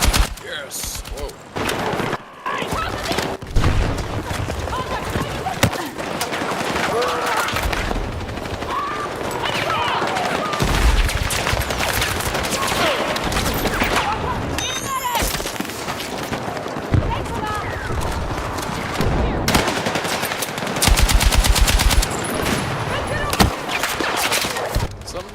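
Rapid video game gunfire crackles almost nonstop in dense, loud volleys, mixed with voices talking over the shooting.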